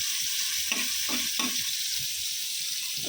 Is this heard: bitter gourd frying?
yes